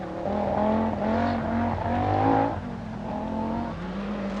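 A 1985 Lombard RAC Rally car driven by Henri Toivonen passes close on a twisty stage, its engine note rising and falling through gear changes as it swings by loudly and fades.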